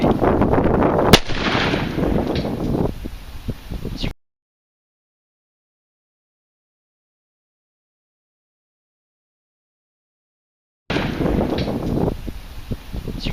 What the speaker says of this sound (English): I'm going to shoot this tree to see how deep they go.